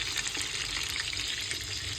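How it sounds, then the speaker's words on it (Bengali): Fish frying in a pan gives a steady, dense sizzle and crackle with a low background rumble, close and constant with no speech. "এখানে মাছ ভাজা হচ্ছে"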